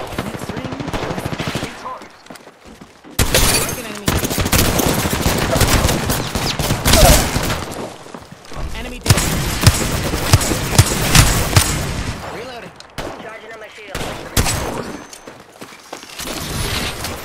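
Dense automatic weapon fire in Apex Legends, loud bursts of gunshots running in long stretches with brief pauses between them, with scattered in-game voice callouts and footsteps mixed in.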